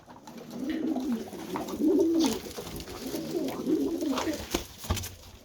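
Pigeons coo steadily inside a coop, with repeated low rolling calls rising and falling over a few seconds, fairly close, accompanied by a few faint scratches and light movement sounds.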